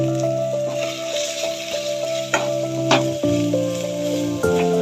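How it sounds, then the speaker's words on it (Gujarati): Spices fry in hot oil for a vaseta greens bhaji with a steady, close crackling sizzle, set against sustained tonal background music. "અને મસાલાને સરખી રીતે તેલમાં શેકાવા દેવાના છે"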